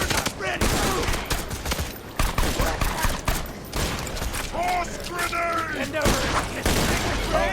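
In an Xbox shooter game, dense rapid gunfire and a grenade blast crackle and boom continuously, loud and chaotic, with mechanical clatter and occasional voices underneath.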